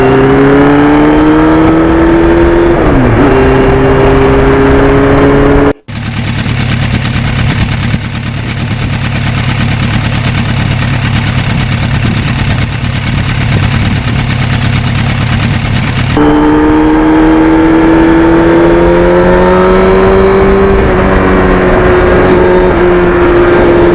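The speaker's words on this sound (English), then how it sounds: "I still look forward to a ride on the FZR." A 1991 Yamaha FZR 1000 motorcycle engine roars loud and close during a ride, its pitch rising and falling as it revs. There is a short break partway through before the steady drone resumes.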